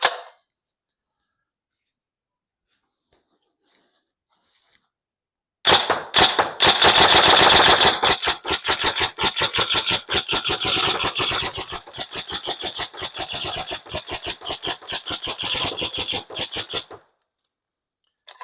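A Tokyo Marui M4 URGI Next Gen airsoft electric gun with a brushless motor fires through a full magazine after a stretch of near silence, a loud, rapid mechanical burst of clattering shots lasting about eleven seconds before stopping abruptly.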